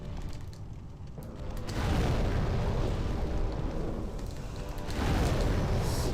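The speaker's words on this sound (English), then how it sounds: "That's a big explosion too, and I took it quite well." A large explosion in the video game Demon's Souls booms and rumbles through the clip, loud and heavy, with a second big blast surging near the end and no voices on top.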